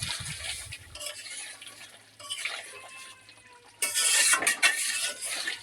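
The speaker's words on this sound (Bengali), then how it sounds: "এখন এটাকে উম, ভুনাবো, মানে কষিয়ে নেব মশলা" Spices for crab curry fry in a pan while a spoon stirs and scrapes through them, soft sizzling broken by clinks and scraping that swells into louder sizzle near the end.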